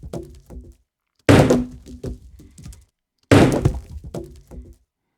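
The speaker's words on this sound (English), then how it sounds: "a little bit of time passes, and then we get the debris." A debris sound effect for an FMOD game audio event: two heavy crashing impacts, each followed by a scatter of smaller clattering and breaking bits that trail off, separated by short silences, close and dry with no talking.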